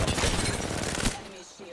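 A loud, close burst of video-game gunfire rattles for about a second during a team firefight, then cuts off and leaves a quieter tail.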